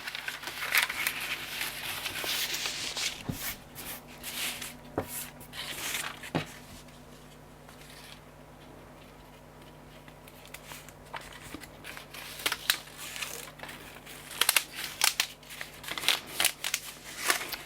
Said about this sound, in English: Just roll it back up. And I'll put the tape back on.